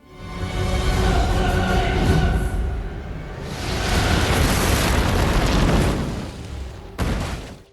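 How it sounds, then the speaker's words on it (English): A yacht blows up in a large explosion, a heavy rumbling roar that swells, dips, surges again and then ends abruptly with a brief final burst. "An action movie-worthy explosion that takes the yacht, Silver, and Kreese with it."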